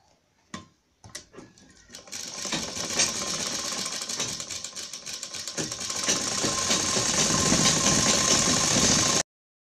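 A sewing machine stitching the back of a blouse: a few short starts, then a steady, fast mechanical whirr and clatter running continuously up close before stopping abruptly.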